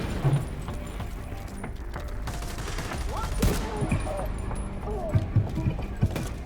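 Gunfire in The Division 2, a shooter game, with enemies taken down by quick double taps: scattered sharp shots and small impacts over a busy, steady game-world din, with a voice talking at times.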